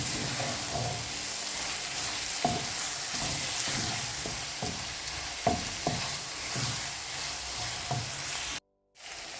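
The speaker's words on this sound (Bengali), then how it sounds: "এই যে গরম গরম শাক ভাজি হয়ে গেছে" Water spinach greens (kolmi shak) stir-fried in a pan, with a steady sizzle and repeated scraping stirs at an irregular rhythm, close and moderately loud, and no talking.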